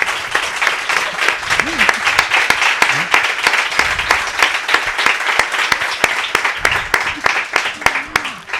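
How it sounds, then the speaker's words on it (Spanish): Loud, sustained audience applause for Ana at a Spanish-language book presentation and conversation, with dense clapping from a full room. Voices talk over the clapping at times. "Y yo sí pido un aplauso para Ana por todo el esfuerzo."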